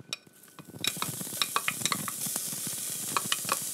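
Shallots frying in hot olive oil: a dense sizzle of crackles and sharp pops that starts after a brief quiet moment and keeps going steadily, close by.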